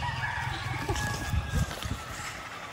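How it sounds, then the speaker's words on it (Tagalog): A pet rooster crows at a provincial house, a short strained cock-a-doodle-doo call with clucking sounds, moderately faint and heard alone without talk. "Ito, may alaga akong ibon."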